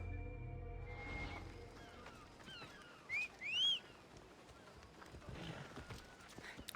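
A horse's hooves clip-clop softly in the Assassin's Creed Odyssey video game, a faint, quiet rhythm with a couple of short tonal game or bird cries rising briefly midway.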